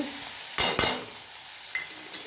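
Spices and ginger being stir-fried dry in a pan for a banana-stem mash: two quick, close scraping strokes of a spatula, then near-quiet with a faint clink or two.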